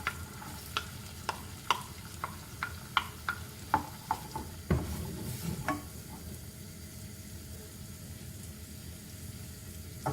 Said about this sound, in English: we place the butter into the saucepan. Add the garlic